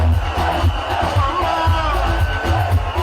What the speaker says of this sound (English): As Bobi Wine arrives, so goes the crowd.